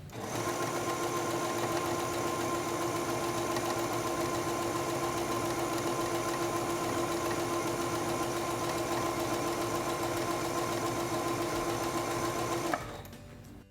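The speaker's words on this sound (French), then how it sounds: "Cousons ce point en utilisant les réglages par défaut." A SINGER Stylist 7258 sewing machine runs steadily at speed, stitching serpentine stitch 63 with default settings. The fast mechanical hum and needle rattle stay loud and unbroken for about twelve seconds, then stop abruptly.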